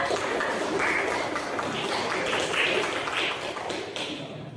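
A classroom of children claps for their classmates, a dense continuous patter of small hands, fairly loud and close, with high voices mixed in.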